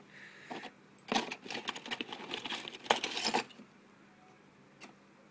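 E-scrap memory chips and circuit boards clatter and rattle as they are sorted by hand, with a dense burst of clicking, clinking handling in the middle that fades back to quiet.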